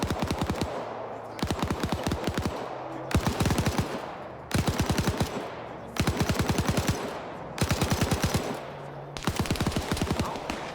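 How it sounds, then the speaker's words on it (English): A machine gunner in a video game fires about seven short, evenly spaced bursts of rapid automatic fire that ring loud and close, separated by brief pauses. "Yep, so that machine gunner up there spotted them."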